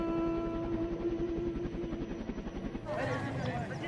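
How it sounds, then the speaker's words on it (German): A helicopter's rotor thumps steadily with a droning engine tone, loud and close, while a voice speaks over it and the sound shifts near the end. "Das ist der Hubschrauber, mit dem ich eigentlich fliegen sollte."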